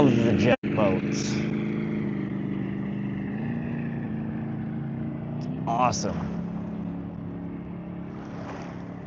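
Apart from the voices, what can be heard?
jet boats on the Missouri river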